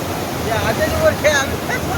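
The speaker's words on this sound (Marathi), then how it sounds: "हा बघा यांचा वॉटरफॉल" Continuous rushing water from a waterfall at Yeldari Dam, a steady broadband roar heard outdoors with faint voices in the background.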